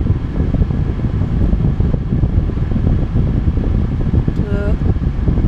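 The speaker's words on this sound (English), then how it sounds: "Now I've had a look at the pulley for the compressor, and it seems to be running as a compressor." Air conditioning compressor on a 2004 VW Polo running, heard as a loud, steady whooshing fan-like roar with constant low rumble close to the microphone, without a break.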